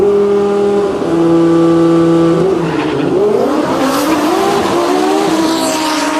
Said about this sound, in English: Z Wolinski, the number 2 qualifier in the DCT Street class, looking to better his 8:23 time